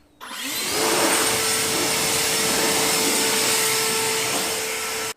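A powerful leaf blower drying a washed BMW 535i (F10) roars steadily at close range, starting abruptly and holding a loud, even whoosh with a high whine before cutting off.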